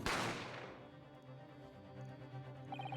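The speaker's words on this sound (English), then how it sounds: "You heard the gunshot, you mean?" Gunshot sound effect in the video game The Great Ace Attorney: a single sharp blast that opens and decays into a low rumbling tail, with a few faint chimes near the end.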